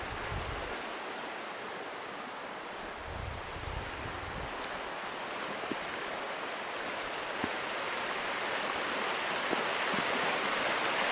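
Rushing stream water at a river ford on a trail in Banff National Park, a steady broad wash of flowing water with some wind buffeting at the start, continuous and fairly close.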